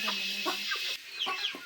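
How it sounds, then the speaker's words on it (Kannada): Country chickens cluck close by at a Malnad village house. Several short, choppy clucks and squawks tumble over one another through a steady airy background, with no voice over them. "ಪಕ್ಕಾ ಪ್ಯೂರ್ ನಾಟಿ ಕೋಳಿ ಇವೆಲ್ಲ, ಪಕ್ಕಾ ಪ್ಯೂರ್."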